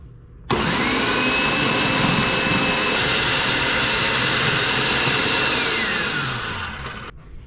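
A food processor runs steadily for about seven seconds, shredding cabbage for sauerkraut with a loud, even whirring roar that slightly lowers in pitch near the end before cutting off, with no talking.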